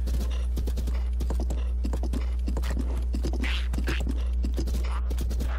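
Steady clip-clop of horse hooves at a trotting rhythm in the video game The Legend of Zelda: Breath of the Wild, close and continuous, with a steady low hum underneath.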